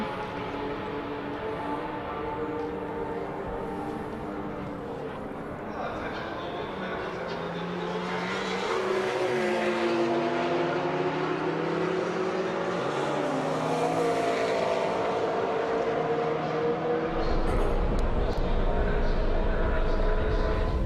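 Race cars lap Circuit of the Americas (COTA) during a Super Lap Battle time-attack session, their loud engines rising and falling in pitch as they pass. The sound is steady and grows louder in the second half, with faint speech mixed in.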